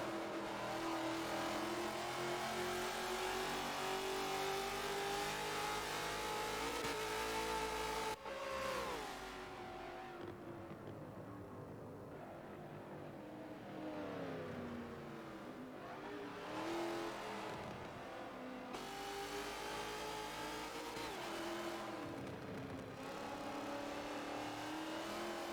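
Hot Wheels Bone Shaker driven in Forza Motorsport 7, engine revving hard with rising and falling pitch as power comes on too early and the car loses grip, loud and continuous with a brief lift and several throttle swells.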